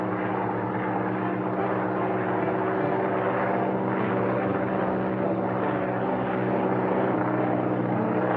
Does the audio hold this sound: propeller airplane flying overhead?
yes